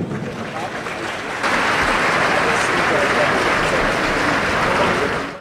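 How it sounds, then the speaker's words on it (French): Graduation ceremony audience at a diploma presentation applauding, the broad wash of many hands swelling loud after a quieter opening and holding steady to the end. "Et je vous demande encore de les applaudir chaudement."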